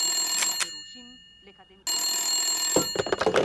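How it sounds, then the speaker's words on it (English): A telephone rings for an early-morning wake-up call, its bell-like tone sounding near and clear, broken by a short pause, with someone speaking over part of it. "At 6 a.m., the phone rings."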